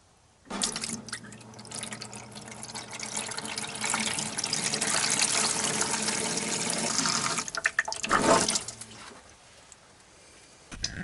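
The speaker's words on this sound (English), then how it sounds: "Well, I was draining the fuel." Fuel and water drain from a flooded Mazda RX-8's fuel line through a hose into a tub, a steady trickling, dripping liquid flow that swells into a louder splash before tapering off.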